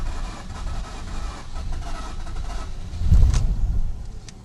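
A flooded Mazda RX-8 rotary engine, accelerator held to the floor, cranks with a continuous low churning drone that rises and swells near the end, heard close up with no voices.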